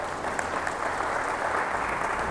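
An audience at a dairy farmers' workshop claps together in a dense, steady round of applause, indoors and fairly close, without talk over it.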